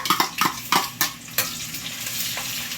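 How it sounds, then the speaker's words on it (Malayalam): Onions drop into hot oil and get stirred in a pan, making a loud close sizzle broken by several sharp scraping and clinking strokes early on that settle into steady frying. "അതിനകത്തോട്ട് നമ്മൾ ഒരു ഇച്ചിരി സവോള ഇട്ട് കൊടുക്കാം ഇനിയിപ്പോൾ സവോള ഒന്ന് ചെറുതായിട്ട് ഫ്രൈ ആകട്ടെ"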